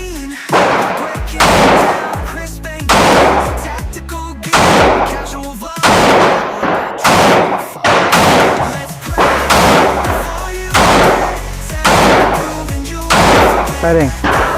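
A Ruger Max 9 pistol fires at an indoor range, about a dozen sharp, loud, close shots spaced roughly one to two seconds apart, each with a short echoing decay.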